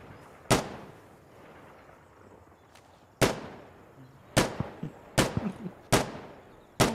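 Video game gunfire in an online multiplayer shooter: several sharp, loud single shots at irregular intervals, some followed by quick smaller cracks, over faint background noise.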